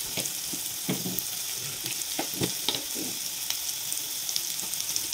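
Garlic, ginger and turmeric fry in a pan with steady hissing sizzle, broken by scattered scraping and tapping as a spoon stirs, at moderate distance with no talking.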